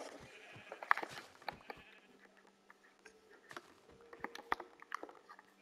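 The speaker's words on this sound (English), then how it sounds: "sheep" Sheep in the Minecraft video game bleat a few times, short nasal cries near and fairly clear, mixed with faint footsteps and game clatter and no talk.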